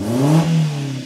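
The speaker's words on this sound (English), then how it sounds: "Let's see if we can get a good rev" A carbureted Subaru Sambar kei truck engine revs up and holds, a rising then steady mid-pitched drone heard close and loud for about a second, with no talking.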